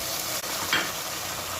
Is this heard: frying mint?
yes